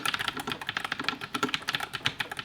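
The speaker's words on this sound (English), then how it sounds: "this keyboard is the NuFi Air 96, which is compact but still has a full numpad" Rapid, steady typing on a compact NuFi Air 96 keyboard with a full numpad, a dense run of close, crisp key clacks heard alone.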